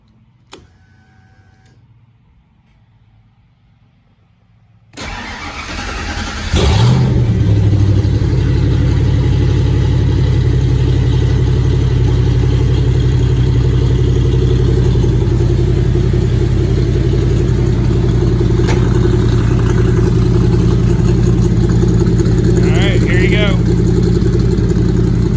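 A Factory Five Shelby 427 Cobra Roadster turns over on a cold start and fires up loudly, then settles into a steady, rumbling idle that carries on for the rest of the clip.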